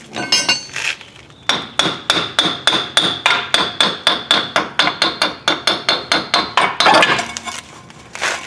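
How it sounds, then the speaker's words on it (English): A hammer hammering the axle out of a Ford Expedition or Explorer front spindle: about two dozen loud, sharp metallic whacks in a steady, quick rhythm, close and unaccompanied, with a brief scraping clatter near the end. "I'm gonna take this off from the bottom and continue whacking the axle out"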